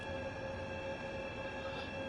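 A DB BR187 electric locomotive running in Train Sim World 3 gives a steady, faint hum with sustained tonal whines and a constant low rumble, no voices.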